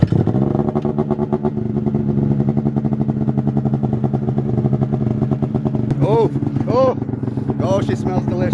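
A 600 race snowmobile engine with high compression, a single pipe and race gas idles loudly up close with a steady, throbbing two-stroke burble, then rises in a few quick revs near the end, with people talking over it.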